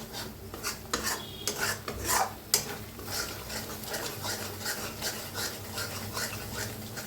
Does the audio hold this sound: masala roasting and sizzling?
yes